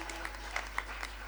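A church congregation claps during a Sunday service, a faint, sparse patter of hands with a few sharper claps standing out over low background hum.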